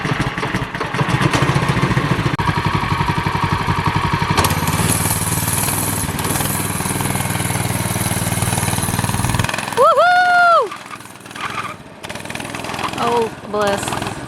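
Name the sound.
go-kart engine running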